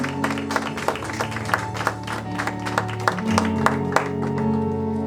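A church congregation applauding after a sermon, with rhythmic clapping over a sustained musical backing and a murmuring crowd.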